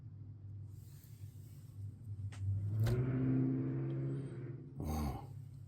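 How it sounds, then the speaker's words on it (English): Outdoors, a loud vehicle revs its engine nearby, a rumbling swell that rises and holds for a couple of seconds, then a second shorter rev, heard faintly through the room with no talking. "Wow, some vehicles around here are really loud."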